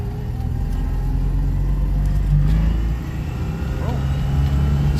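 An old car pulls away in first gear, its engine a steady low rumble that shifts pitch as it moves off, heard from inside under road noise.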